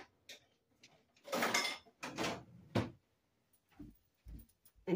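A kitchen drawer rattles open and shut as a spoon is fetched, with bursts of metallic clatter from cutlery and a couple of dull knocks, close and fairly quiet with pauses between.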